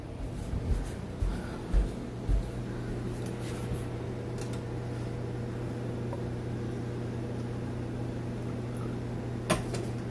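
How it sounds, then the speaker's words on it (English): Microwave oven heating oatmeal in a home kitchen, a steady low hum running throughout with a few soft knocks and clicks early on and a faint tick near the end. "we're gonna put that back in the microwave for another minute"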